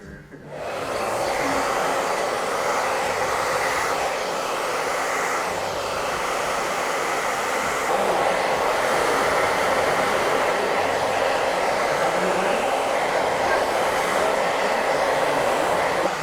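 Hair dryer blowing steadily while styling a young man's hair in a barbershop, a loud continuous roar that starts abruptly and holds for the whole stretch with slight shifts in tone as it moves, with no talking.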